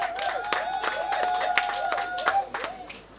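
Audience clapping at a Human Rights Day 2024 ceremony, several claps in an irregular loose rhythm with a steady tonal hum underneath, moderately close and fairly quiet.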